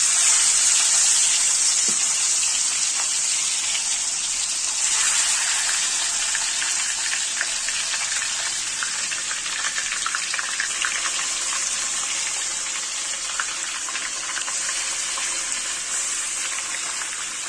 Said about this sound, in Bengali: এই তেলের মধ্যেই আমি এবারে ম্যারিনেট করা যে চিকেনটা ছিল সেটা দিয়ে দেবো।